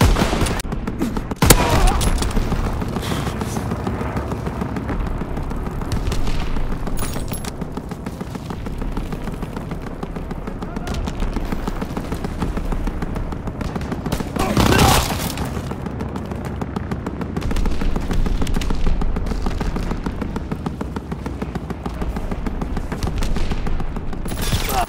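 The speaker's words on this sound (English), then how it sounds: "Enemy aircraft gunner firing at targets!" A long, continuous barrage of heavy gunfire and booms in Call of Duty WWII online play, with loud cracks and rumbling bursts, as an enemy aircraft gunner fires at targets.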